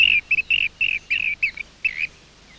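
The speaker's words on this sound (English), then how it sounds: "In Australia, like most continents, the rainbow bird is one of the most brilliantly coloured birds." A rainbow bird calls in a rapid series of about seven short, bright, trilling notes with brief gaps between them, clear and fairly close, the final note slightly longer and then silence.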